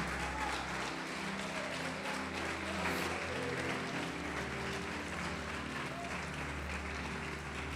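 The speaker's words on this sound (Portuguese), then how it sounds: "Pode aplaudir Jesus, pode aplaudir." A church congregation applauds during a worship service, a dense, steady wash of clapping that runs the whole time with a low murmur of voices beneath it.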